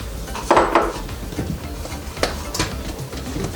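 Spoon scraping and clinking in a dish while stirring a failed chocolate pie filling, a few sharp close knocks followed by softer scraping strokes, no talk.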